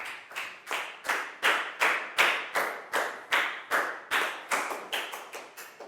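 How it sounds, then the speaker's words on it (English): A group of Year 4 schoolchildren applauds a classmate in a classroom, a series of about fourteen evenly spaced sharp claps of near-unison clapping, loud and close, without voices. "Big round of applause for Nadia, please, guys."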